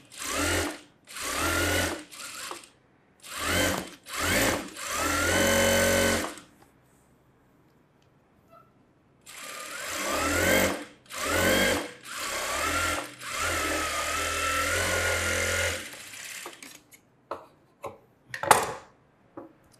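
A sewing machine stitches a puff sleeve in a summer tailoring class, running in short close bursts and then a longer steady stretch, broken by a quiet pause and ending in a few brief stops and starts.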